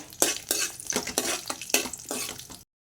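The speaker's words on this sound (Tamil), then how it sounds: "இப்போ லேசாக நல்லா வறுத்து எடுத்து வச்சுக்கோங்க" Dry vermicelli roasting in a pan for semiya payasam, stirred in about five quick scraping, rustling strokes with a spoon against the pan, close and fairly loud, ending in silence.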